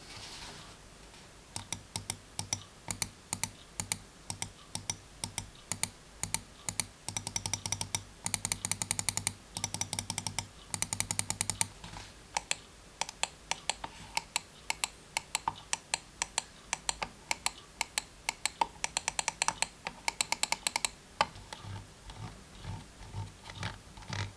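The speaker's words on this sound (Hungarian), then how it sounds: "A görgővel való kattintás viszont meglehetősen hangos lesz majd." An Akko Nest computer mouse has its scroll wheel clicked in quick, uneven bursts, a sharp and fairly loud clicking close up that runs for most of the stretch with brief pauses, and no voices.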